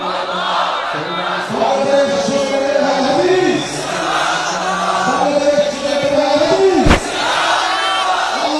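A massed crowd at an Ahl-e-Hadith international conference chants the takbir, Allahu Akbar, in loud repeated call-and-response waves with a sharp thump partway through.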